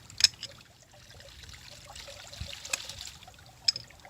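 Water trickling faintly as a pump is primed, with soft uneven dribbles and a few sharp drips or clicks over a quiet background.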